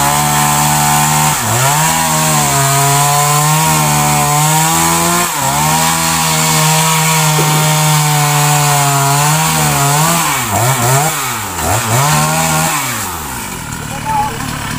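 A loud chainsaw roars and revs as it cuts through a coconut palm trunk, pitch dipping under load and rising again, continuous and close.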